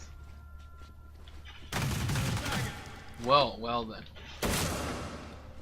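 Video game gunfire breaks out in two loud bursts of rapid shots, separated by a quieter stretch where a person briefly speaks.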